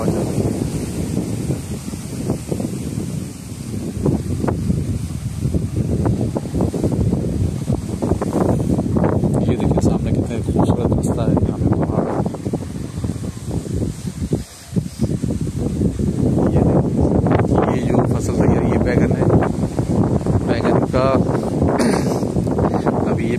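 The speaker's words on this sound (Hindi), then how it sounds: "तेज हवा चल रही है।" Strong, gusty wind roars steadily across an outdoor vegetable garden in Balochistan, buffeting the microphone almost nonstop with a short lull midway while someone talks over it.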